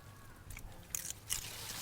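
Two or three quiet, crisp crunches of fresh snow peas being bitten and chewed close by, in an otherwise hushed room.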